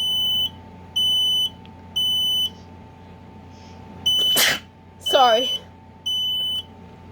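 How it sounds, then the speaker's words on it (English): One sharp sneeze bursts out between repeated high electronic beeps from a collection of smoke alarms indoors, followed by a short spoken word. "I sneezed."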